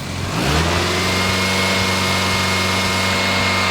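A car engine overfilled with three extra quarts of oil cranks and catches, then revs up and settles into a steady rumbling run, loud and close.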